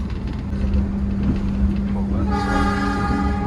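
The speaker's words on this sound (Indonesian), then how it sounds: "kecepatan operasional maksimal ini kereta api Sangkuriang di atas 100 dan langsung nguang dari tadi" The Sangkuriang passenger train runs at over 100 km/h in Indonesia with a loud, steady rumble, then a sustained horn blast with a rich harmonic tone enters midway and holds to the end.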